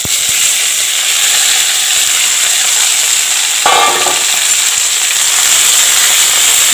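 Two green chillies dropped into hot oil with panch phoron give a steady, close frying hiss and sizzle, with a brief sharper crackle partway through as they hit the pan.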